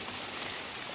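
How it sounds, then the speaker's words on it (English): Autumn drizzle falls in wet, soggy weather, a steady even hiss of fine rain that stays constant throughout without pauses or voices. "It's drizzling and wet and"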